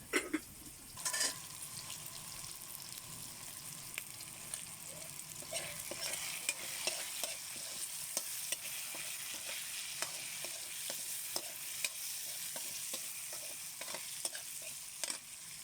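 Shrimp paste (bagoong alamang) from Calasiao, Pangasinan sautés in a pan. A steady hiss of frying runs throughout, with frequent scraping stirs and clicks of a utensil close by. No one speaks.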